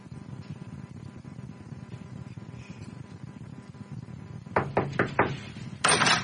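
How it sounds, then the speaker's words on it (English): Knocking on a door: a quick burst of four sharp raps, then a louder, denser cluster of knocks after a short pause, heard up close over a low background hum. "Just knock on the door."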